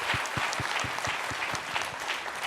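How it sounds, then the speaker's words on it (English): An audience claps at the closing of an HR conference, with rhythmic, evenly spaced claps heard close over a bed of scattered crowd applause, steady and moderately loud. "A big, big round of applause"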